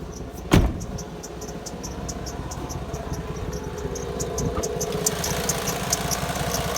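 A 1997 Lincoln Mark VIII engine runs at a steady idle up close, with a sharp click near the start and a constant rumble beneath faint high ticking.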